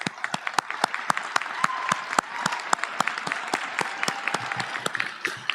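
Applause for graduating students at the Young Women's Leadership Academy graduation ceremony, a steady wash of many hands with distinct sharp claps standing out, sustained and fairly close throughout.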